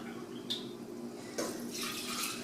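Water poured from a tap into a pot of toor dal, a steady close running splash with brief bursts as the stream shifts, no voices.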